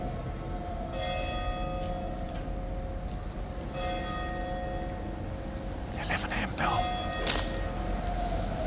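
Big Ben tolls a few times in the distance in London, its ringing tones hanging over steady background noise, with someone talking throughout.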